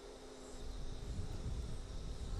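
Honeybees buzz around Flow Hive frames in a steady, faint outdoor hum that swells slightly and holds without pause, with no voices.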